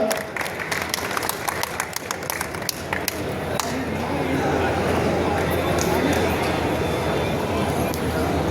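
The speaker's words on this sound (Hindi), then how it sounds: "कृषि निदेशक उत्तर प्रदेश, जोरदार तालियों से स्वागत है आपका।" Audience applause at an agricultural officials' Rabi productivity seminar for the Aligarh and Agra divisions in Uttar Pradesh, a dense hall of clapping that swells and holds steady, mixed with crowd murmur.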